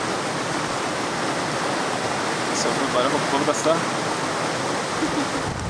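A rushing mountain river in a Norwegian valley gives off a constant dense roar that fills the scene from start to finish, while a person speaks briefly over the steady flow.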